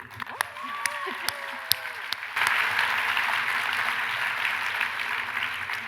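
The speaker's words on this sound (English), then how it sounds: "Clap your hands if you think dry heat is better than humid heat." At a friendly debate event, scattered claps and murmuring voices give way to a sustained burst of audience applause that swells and holds steady through the second half.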